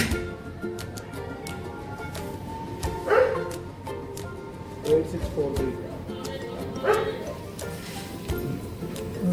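A few scattered barks from dogs near a scooter taxi pickup on a street, spaced out and moderately loud over a steady outdoor noise bed, with someone talking underneath.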